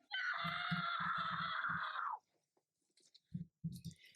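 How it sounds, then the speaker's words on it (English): A scream during an episode of the Percy Jackson series, loud and sustained for about two seconds over rhythmic low thuds, followed by quiet with scattered faint knocks and rustles. "Ooh, the scream."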